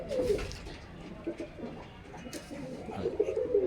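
Pet pigeons cooing indoors inside a house, a low repeated throaty coo rising and falling throughout, close by and fairly quiet, with faint room noise and occasional small rustles.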